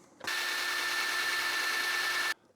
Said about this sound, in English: I drilled that hole a little bit too high